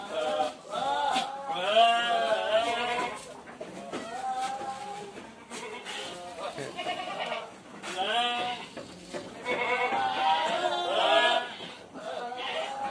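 A herd of about 400 goats bleats continuously, many overlapping calls near and far, with a dense chorus of wavering cries throughout.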